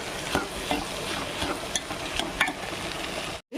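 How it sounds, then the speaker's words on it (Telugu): Tindora (ivy gourd) frying in oil on a stovetop, stirred with a spatula, giving a continuous crackling sizzle broken by soft scrapes and a few brighter clinks, close and steady until a sudden brief cutoff. "బాగా మధ్య మధ్యలో కలుపుకుంటున్నానండి, ఎందుకంటే మాడిపోతుంది."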